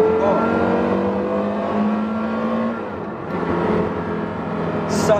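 Porsche Carrera GT engine revving and pulling hard as the car accelerates, a loud, sustained roar with rising harmonics across the whole stretch, close and continuous, with a brief lull in the middle.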